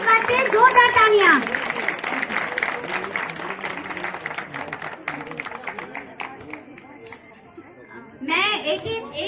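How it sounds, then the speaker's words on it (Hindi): Audience clapping loudly at a community livelihood event in Pauri, a burst of many hands that gradually thins and fades, with children's voices and chatter mixed in and a louder swell of voices at the end. "जोरदार तालियां होनी चाहिए इस बात पे, जोरदार तालियां"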